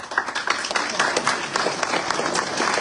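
An audience applauds at a talk on Tibetan civilization and identity, a dense, steady wash of many hands clapping close and loud for the whole stretch.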